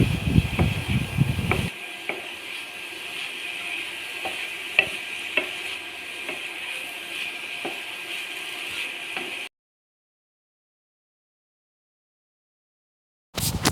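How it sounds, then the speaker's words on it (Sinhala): Snake gourd stir-fried with chili flakes and pepper sizzles steadily while a spoon clicks and scrapes against the pan at intervals, and a few seconds of silence follow. "හොඳින් පැදෙන තුරු හැඳි ගන්න. කලවම් කරන ගමන්ම කෑලි මිරිස් සහ ගම් මිරිස් ටිකත් මේ විදිහට එකතු කරගන්නවා"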